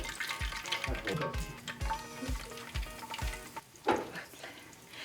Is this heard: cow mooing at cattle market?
no